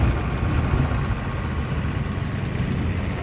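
A pressure washer compressor head, model 511, runs on a test bench with a steady, smooth, even drone that stays loud and unbroken throughout, with no voices.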